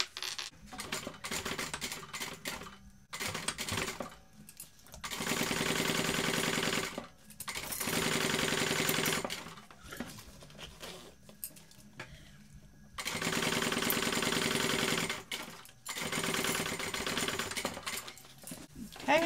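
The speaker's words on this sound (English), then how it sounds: "we're going to sew this on using the seam allowance given in the pattern" Sewing machine stitching a zipper tape seam on a BeHip 2.0 bag, running in several sustained bursts of steady buzzing separated by pauses where a person talks.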